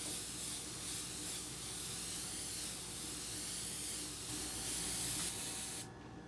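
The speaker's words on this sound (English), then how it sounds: "We're just going to take and spray it right down the center here" A steady, close airbrush hiss spraying paint for a woodgrain effect continuously for several seconds, then cutting off abruptly near the end.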